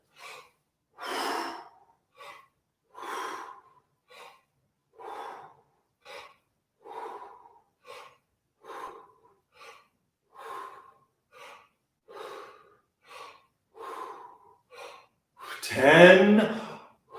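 Rhythmic breathing during breath squats in a vocal warm-up, about a dozen short breaths spaced roughly a second apart, then a louder, longer gasping exhale near the end, close to the mic with no talk.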